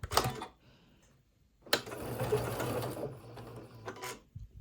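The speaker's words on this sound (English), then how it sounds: "I'm going to sew right up to that first pin and then remove it" A sewing machine stitches pieced quilt fabric in two close, rapid mechanical bursts of rhythmic needle clatter, separated by a short pause, with a brief final run at the end.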